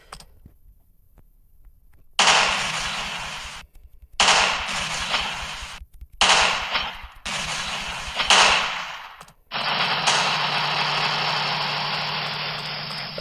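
Gunfire from the Sinister Squidward horror video game comes in loud, sustained bursts of rapid shots separated by short silences, ending in a long continuous volley, with no talk.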